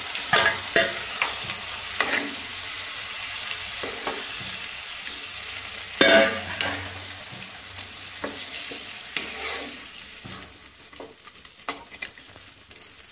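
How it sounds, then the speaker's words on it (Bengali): Meat dropped into spice paste frying in oil for a Bengali non-veg dish, giving a steady close sizzle with repeated scraping and stirring strokes throughout, no talk. "মশলাটা ভাজা হয়ে গেছে, তেল ছাড়ছে, এবারে আমি মাংসটা দিয়ে দিলাম"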